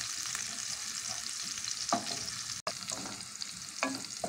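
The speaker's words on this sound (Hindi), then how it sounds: "फिर मोटी वाली हरी मिर्च गोल वाली, खूब अच्छे से उछल रहा है मज़े से।" Thick, round green chillies fry in hot oil for a potato and spinach curry, a steady close sizzle with a couple of louder stirring scrapes and a brief dropout midway.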